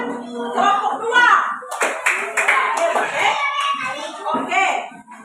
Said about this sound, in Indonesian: Tepuk tangan buat kelompok dua